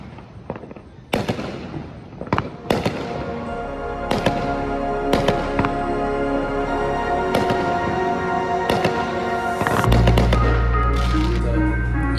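Fireworks exploding at a Fourth of July celebration, a rapid string of loud close bangs and crackles that builds into a dense, continuous barrage.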